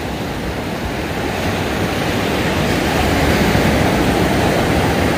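Surf rolls continuously onto a sandy beach shore in the early morning, a loud, dense wash of crashing waves and water hiss with no gaps, heard close up.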